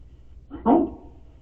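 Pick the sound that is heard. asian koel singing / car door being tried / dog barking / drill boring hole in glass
dog barking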